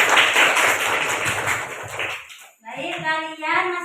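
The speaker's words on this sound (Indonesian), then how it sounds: "Tepuk tangan buat kita semua." Schoolchildren in a classroom clap their hands together in a dense burst for a couple of seconds, which then fades, and a voice starts speaking.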